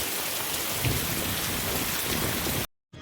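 Steady, heavy rain pours down in a dense, even hiss, then cuts off abruptly near the end before resuming briefly.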